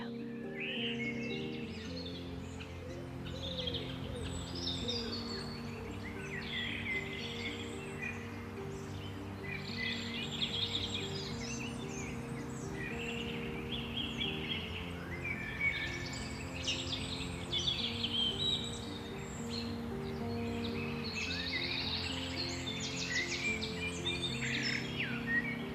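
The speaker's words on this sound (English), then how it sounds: "the endless birdsong" Birds sing in a mossy forest, with scattered chirps and trills repeating throughout, fairly faint over a sustained low tonal drone.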